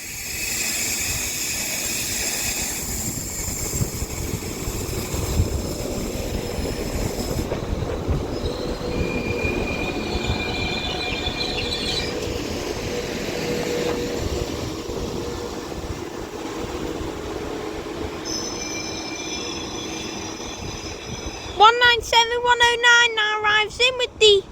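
Transport for Wales Class 197 unit 197109 pulls into Llandudno Junction station: a steady rumble of the diesel train and wheels on rail, a rising whine from the units, and bright wheel squeal near the end as it slows alongside the platform.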